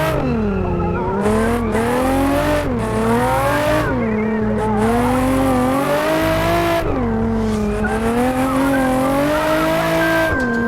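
Nissan 350Z drifting in the Assetto Corsa racing game, its engine note rising and falling steadily throughout, with the tires squealing loudly in long sweeping slides and no voices over it.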